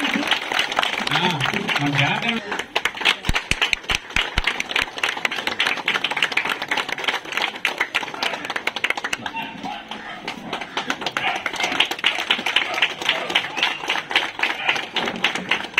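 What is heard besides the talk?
applause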